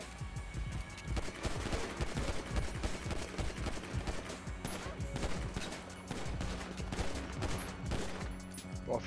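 Rapid bursts of gunfire in GTA 5, dense crackling shots repeating throughout over a constant background with voice chat faintly underneath.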